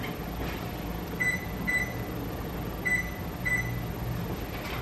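A kitchen oven's control panel beeps four times, short high electronic tones at uneven intervals, while the oven is set to preheat to 450 degrees, over a steady room hum with no talking.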